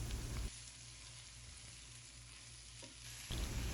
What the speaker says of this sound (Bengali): একটু নাড়াচাড়ি করতেই হবে, না হয়তো এটা লেগে যাবে,